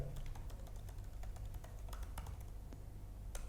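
Close, crisp keystrokes tap out a website domain on a computer keyboard in short uneven bursts, layered over a steady low electrical hum without any speech.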